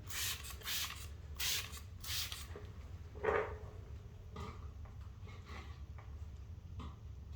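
Rhine West Industries Iron Decon, a near pH-neutral iron remover and wheel cleaner, is sprayed from a trigger bottle in several short, close hissing bursts. Softer rubbing and creaking sounds follow at a low level, with no talking.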